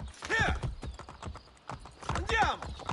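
Horse hooves clatter in a fast galloping rhythm in the Assassin's Creed Brotherhood video game, close and loud, with two whinnying neighs and someone talking over the hoofbeats.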